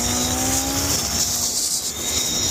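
A BMW S1000 RR motorcycle accelerating hard on an open road, the engine note rising in pitch then shifting as it changes gear, heard over strong wind rush, loud and close with no talking.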